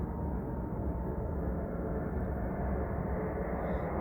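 A loud, steady airplane roar with a broad low rumble, sustained and unchanging as it passes close overhead, no voices.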